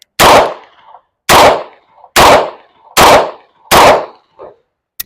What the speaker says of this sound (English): 5 rounds slow fire from the holster, okay? Or as fast as I can fire it, just trying to put it all in the A zone.